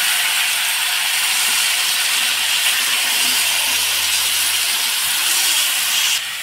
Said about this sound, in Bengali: মাছটা এখন ভাজা হয়ে গেছে। আমি এখন ডালের মধ্যে এখন ঢেলে দেবো।